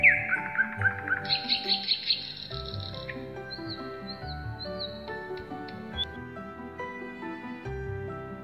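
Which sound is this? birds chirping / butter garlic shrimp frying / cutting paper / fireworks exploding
birds chirping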